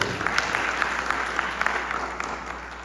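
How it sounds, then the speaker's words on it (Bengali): Applause for a children's cultural performance at a Victory Day celebration, a sustained dense clapping from a crowd, fairly even and moderately loud throughout. "তাদের জন্য জোরে একটা হাততালি আশা করতেই পারি।"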